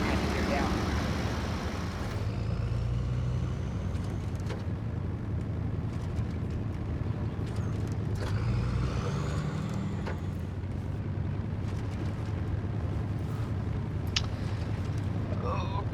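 A heavy Freightliner tow truck loaded with equipment labors along with a deep, steady diesel rumble close by, its engine note shifting as it gears down under the load.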